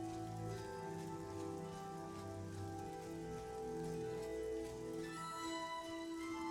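Steady rain and wind sound outside in Oblivion, a continuous patter of rain layered under a droning ambient music bed.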